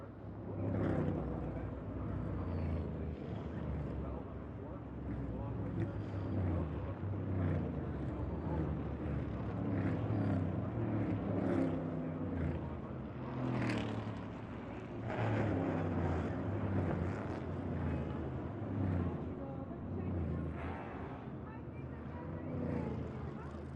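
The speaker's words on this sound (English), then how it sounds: "These next-gen cars are so loud and so hard" NASCAR Next Gen Cup Series race cars roar at Dover Motor Speedway, a steady, heavy engine drone that fills the whole stretch, with voices talking over it.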